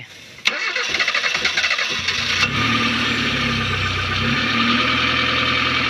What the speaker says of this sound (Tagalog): umaandar na siya kasi naikabit ko na yung rotor niya